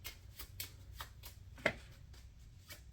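Playing cards being shuffled in soft repeated riffling bursts, quiet and close, with one sharper snap partway through.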